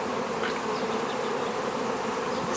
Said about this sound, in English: So that is essentially a ball of bees.